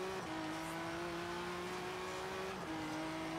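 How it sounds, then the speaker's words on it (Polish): A car engine in Forza Horizon 3 holds a steady high rev, then briefly drops in pitch during a fast gear shift and picks up again, loud and continuous throughout. "Jaka szybka zmiana biegu."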